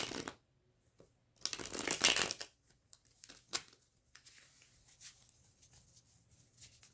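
Tarot cards shuffle in soft, quick riffles and crisp papery bursts, close and fairly quiet, with brief pauses and light handling noises between the shuffles.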